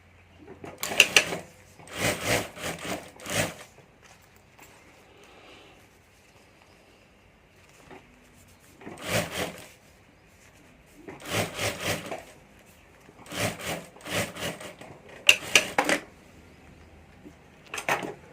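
A sewing machine stitches handbag parts together in several bursts of busy mechanical whirring, with quieter pauses between runs; no one speaks.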